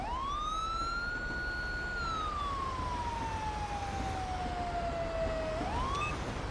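A Chevy Silverado EMS ambulance siren in GTA 5 rises quickly, holds a long steady tone, then slowly glides downward before sweeping back up near the end, clear and alone over a faint background hum.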